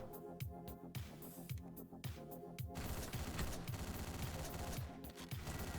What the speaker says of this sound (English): I shot everybody I wanted to shoot there